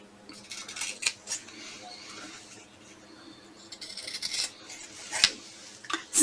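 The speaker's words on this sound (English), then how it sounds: "I'm going to trim off the corners." Scissors trimming the bulky corners of a sewn fabric vaccination card holder, giving a few quiet snips and rubbing, handling sounds spread over several seconds.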